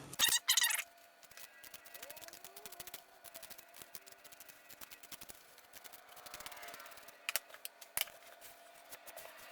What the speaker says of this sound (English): I'm going to go in with my scissors and cut off the edges of my material.